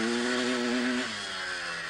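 A 1984 enduro motorcycle engine revs hard on a muddy forest trail in Wales, a loud, close, steady buzzing tone that drops in pitch midway as the throttle eases.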